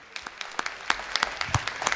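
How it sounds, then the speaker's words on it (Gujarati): Audience applause follows a community speech, a burst of many hands clapping with sharp irregular claps that hold steady and fairly loud for two seconds. "અને તાળીઓ થઈ જાય ભાઈ જોરદાર."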